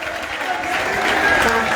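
Audience applause fills a hall at a bicentennial celebration, a steady sustained wash of clapping from many hands with crowd murmur mixed in, close and fairly loud throughout.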